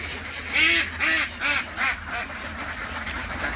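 Egg-laying ducks give a run of about five loud, close nasal quacks in quick succession, then fall quiet against a low background murmur.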